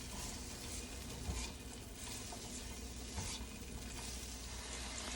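Vegetables browning in a frying pan for a meatless greens and cabbage dish, stirred steadily under a continuous close sizzle, with occasional louder scrapes of the spoon and no talking.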